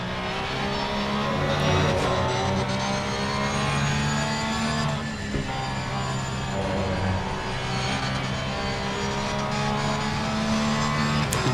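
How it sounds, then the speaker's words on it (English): A Porsche GT3 race car in the Assetto Corsa Competizione racing game, heard on board with a loud, sustained engine note that rises and falls as the throttle is worked through corners, with no talk. "Let's have a listen to that Porsche."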